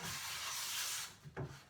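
Wooden shelves get a fine sanding by hand: steady, close, gritty rubbing strokes. The sound pauses briefly, then one last stroke follows.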